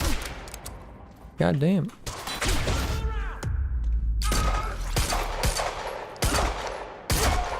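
Gunfire in the video game Quantum Break, loud close shots in scattered bursts mixed with whooshing time-shift effects and thuds, with someone briefly talking over the action.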